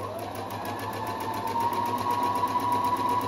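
A Husqvarna 330 electronic sewing machine runs a straight stitch, its needle beating in a fast, even mechanical rhythm under a steady motor whine, close and continuous.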